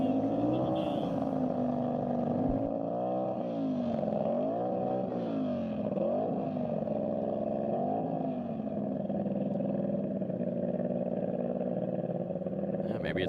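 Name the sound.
land speed race car revving at Bonneville, possible transmission issue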